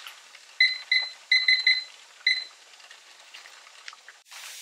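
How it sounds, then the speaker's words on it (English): Kitchen timer alarm beeping during pressure canning of chicken, several bursts of bright electronic beeps in quick groups, fairly close, followed by faint clatter and rustling. "10 minute timer went off"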